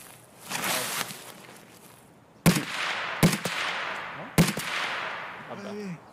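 Gunfire rings out in a shooter video game, three sharp separate shots a second or so apart, each with a fading tail, over quiet background and brief low voice sounds.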